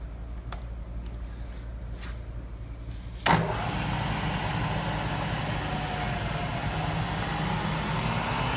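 A Bridgeport vertical milling machine, a 2 hp, 230 V three-phase shop mill with variable speed, has its spindle start with a sharp click. A steady motor whir follows and holds close and even to the end, with no voices.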